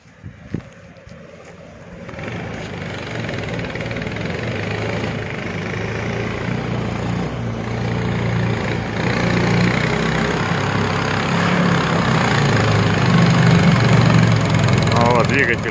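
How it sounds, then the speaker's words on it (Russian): The 17-horsepower engine of a Yag-Mort skid-steer all-terrain vehicle drones steadily while driving through clay and mud, a loud, constant low rumble that rises after a couple of seconds and keeps building slightly. "Эх, двигатель 17 лошадиных сил."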